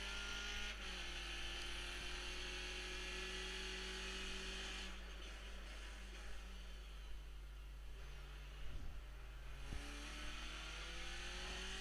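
Race cars lapping Suzuka in the iRacing sim, a Skip Barber race: a steady engine drone at high revs with slowly falling pitch as gears shift, loud and continuous throughout.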